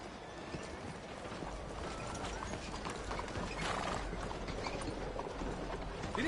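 Horse hooves galloping in Red Dead Redemption 2, a steady rapid clip-clop rhythm running the whole time at moderate loudness, with ambient outdoor background and no speech.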